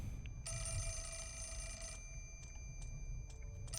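A telephone bell rings in the horror game Fatal Frame: Mask of the Lunar Eclipse, one long bright ring followed by shorter broken bursts over a low ambient rumble.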